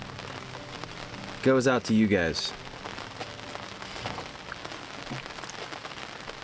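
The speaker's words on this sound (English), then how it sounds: "It is raining right now" Steady rain patters on a surface at an Idaho campsite, a continuous soft hiss throughout, with a person speaking briefly over it early on.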